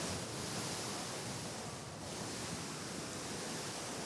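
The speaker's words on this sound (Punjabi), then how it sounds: "ਇਹ ਬਿਆਸ ਦਰਿਆ ਅਸੀਂ ਦਿਖਾ ਰਹੇ ਹਾਂ ਤੁਹਾਨੂੰ" Floodwater of the swollen Beas river rushes past as a steady, dense broadband roar, continuous and unbroken like heavy surf, with no voices over it.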